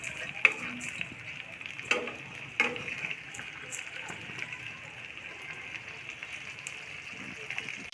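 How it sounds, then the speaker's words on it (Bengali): Soft sizzling of pabda fish frying in oil, with a few sharp clatters of a utensil against the pan; fairly quiet and close. "মাছগুলো আমি একটু সময় নিয়ে ভাজবো"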